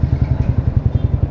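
A motorcycle engine runs with a fast, steady low thumping pulse, close and loud, without talk.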